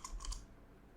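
Keys on a computer keyboard are struck in a quick burst of a few close clicks, then quiet; no voice is heard.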